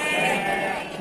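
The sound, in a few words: young ewe sheep bleating at a livestock market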